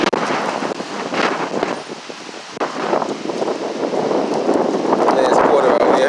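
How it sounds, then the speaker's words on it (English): Strong storm wind roars and gusts steadily over a Boston street at night, a broadband rushing buffet against the microphone that swells louder toward the end, with no clear talk over it. "Very windy night tonight."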